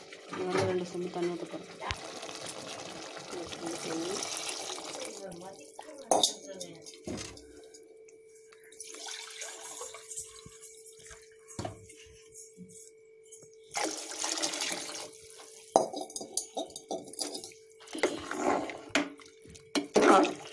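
Water poured from a vessel into a pot of rice and chilli powder while brinji rice is cooked, splashing and trickling in bursts close by, with a voice talking over and between the pours.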